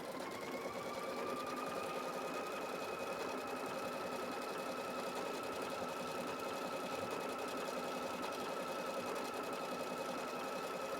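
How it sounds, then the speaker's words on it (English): A PFAFF creative icon 71 sewing machine stitches fabric in one long continuous run, its rapid even needle chatter and motor hum close and steady from start to finish. "Let's just use the start-stop button to stitch all the way down here."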